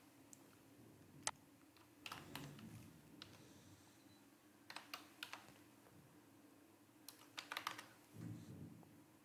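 A password typed on a computer keyboard, with scattered clusters of quiet key clicks, close and soft against a low room hum, with pauses between bursts.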